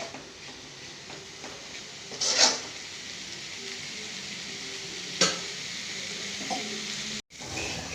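Coconut and dal poriyal sizzles softly in a pan under a steady faint hiss, with a few sharp scrapes and clinks of a spoon stirring against the metal.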